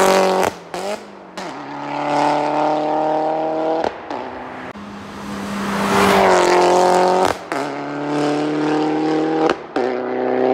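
A Peugeot 308 GTi pulls away under hard acceleration, its engine climbing through several sharp gear changes and rising again, loud at first, then surging past and fading slightly into the distance, with no voices over it.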